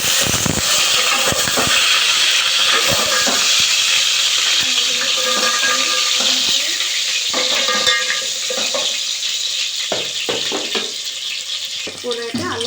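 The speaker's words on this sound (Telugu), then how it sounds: "నూనె అయితే వేడెక్కింది కాబట్టి 1 స్పూన్ జీలకర్ర వేసుకుంటున్నా" A spoonful of cumin seeds sizzles and crackles in hot oil in a pan, with stirring clatter and scraping throughout, close and fairly loud, and some faint background voice.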